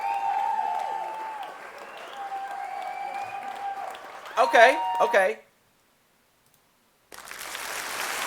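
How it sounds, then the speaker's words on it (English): A clap sound effect being auditioned, with a short burst of crowd-like clapping in the middle that cuts off sharply into silence, followed by another burst of noisy applause, and talk earlier on. "That's the clap!"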